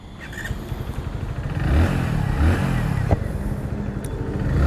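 A 2023 Hero Splendor Plus motorcycle engine cranks and catches, then settles into a steady, close idle with a low rumbling throb.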